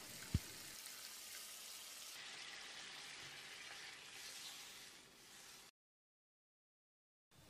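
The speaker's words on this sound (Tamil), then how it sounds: "இப்போ இதோட நம்ம காய்கறிகள் வேக வச்சுருந்த தண்ணியை ஊற்றிடலாம்." Steady sizzling and bubbling as vegetable cooking water hits hot gravy in a kadai, a continuous frying hiss that fades before a brief silence.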